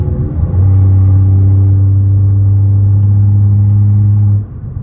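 A loud, deep, steady engine idle from a Mk5 Toyota Supra with a carbon intake rumbles close by, holding a constant low drone before dropping off near the end.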